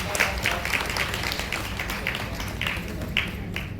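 Audience members at a CSC BC Sakhi award ceremony clap in a loose, fairly even rhythm, several sharp claps every half second or so over a dense background of applause.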